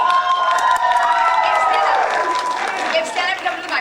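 A school jazz concert audience practices applause and cheering, a burst of crowd clapping and shouting that swells and then trails off over a few seconds.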